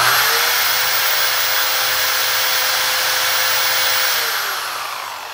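A drainage pump motor rewired as a homemade generator spins steadily with a loud, high-pitched electric whine and broadband whir that holds constant, then begins winding down and fading near the end; no voices are heard.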